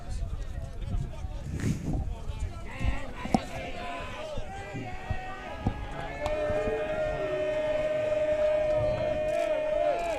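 Crowd noise at a high school baseball championship game between Delsea and Gloucester Catholic, a steady roar of spectators that swells and holds through the stretch, with scattered shouts and thumps mixed in.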